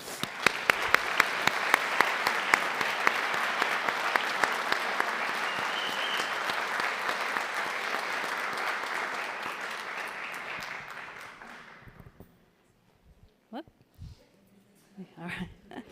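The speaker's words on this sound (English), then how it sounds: "Let's give them a round of applause." An audience at a school board meeting claps steadily for students for about eleven seconds before the applause fades out, followed by a few faint sounds near the end.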